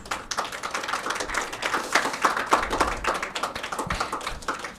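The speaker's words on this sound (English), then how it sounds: "Let us give her a big round of applause." An audience at an award ceremony claps continuously, a dense patter of many hands that stays fairly loud and close throughout, with no talking over it.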